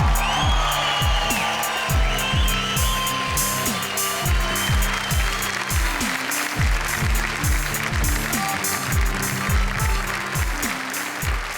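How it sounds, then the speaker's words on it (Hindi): An audience at a Hindi poetry show applauds steadily and loudly for the whole stretch, a dense wash of clapping over regular low thumping beats. "आपकी तालियां सुनकर"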